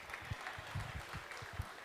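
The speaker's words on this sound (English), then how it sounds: "Give him a round of applause, okay?" Attendees at a Chamber of Commerce membership meeting give a round of applause, a soft, even patter of many clapping hands heard from a distance with occasional louder claps.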